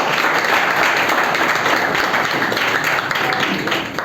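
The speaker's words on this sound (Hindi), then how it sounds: "वेरी गुड, तो जोरदार तालियां।" A large crowd of students gives loud, sustained applause at a motivational school gathering, a thick continuous wash of clapping that holds steady before dipping slightly at the end.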